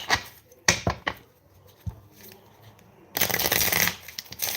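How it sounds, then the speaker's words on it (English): Cards being shuffled: a few soft taps and riffles, then a loud, dense riffling burst that runs to the end, close up. "we're going to go ahead and shuffle the rest of these here"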